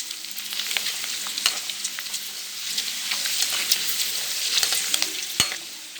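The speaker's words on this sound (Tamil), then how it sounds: "இந்த குட்டி அப்பளம்லாம் பொரிக்கும் போது" Small wafers crackle and sizzle in hot oil, a steady bright hiss dotted with pops, close and continuous.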